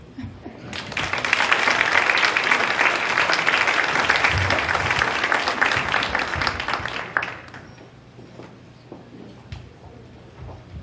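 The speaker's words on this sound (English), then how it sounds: "One more big round of applause for our testimonies tonight." A crowd at a charity fashion show (the 2015 Twin Cities Executives & Celebrities Fashion Show) applauds loudly and continuously for about seven seconds, then the clapping fades to scattered claps.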